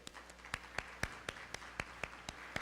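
An audience at a morning State of the Schools 2024 event claps in a steady, even rhythm, about four claps per second, faint and distant.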